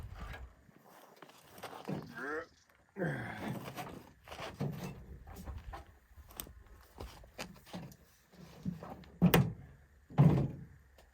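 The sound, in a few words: handling a Holden car door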